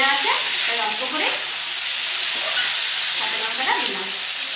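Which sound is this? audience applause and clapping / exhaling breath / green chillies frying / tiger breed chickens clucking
green chillies frying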